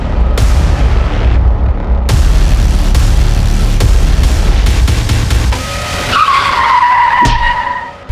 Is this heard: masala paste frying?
no